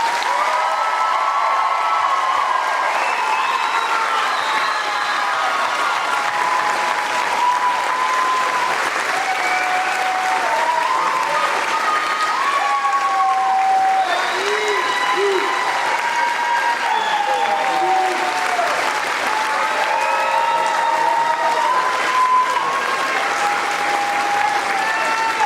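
Steady, sustained applause from a large audience at a high school graduation ceremony for the class of 2026, dense and even throughout, with scattered whoops and voices mixed in.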